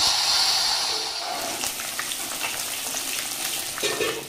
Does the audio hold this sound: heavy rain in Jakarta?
no